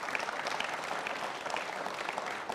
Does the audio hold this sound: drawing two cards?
no